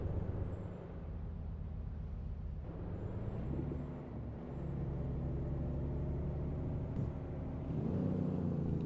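Jake brake on a Volvo VNL truck in American Truck Simulator, a low, steady engine rumble at fairly faint level that dips briefly midway, then rises and swells louder toward the end.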